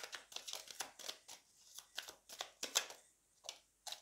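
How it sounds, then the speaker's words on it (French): A tarot card slides out of the deck in a quiet room, with a series of soft, close shuffling and flicking card sounds in quick bursts and brief pauses. "Je vais tirer encore une autre carte ici."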